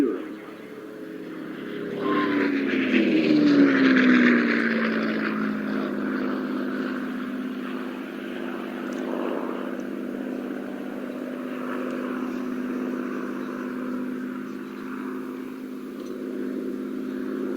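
A North American P-51D Mustang with a Merlin engine passes at an airshow, its propeller drone swelling loud and falling in pitch as it goes by, then fading to a steady distant hum.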